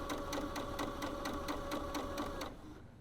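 A sewing machine stitches a seam on a small fabric drawstring pouch, a close, steady rapid clatter with evenly spaced needle strokes that stops near the end.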